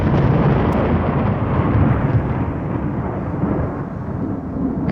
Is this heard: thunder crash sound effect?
yes